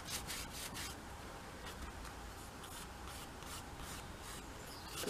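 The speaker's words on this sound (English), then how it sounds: "Let's rub out this." An eraser rubbing out a torn charcoal drawing makes a quiet, steady scrubbing on paper, close and continuous with slight rhythmic strokes and no talk.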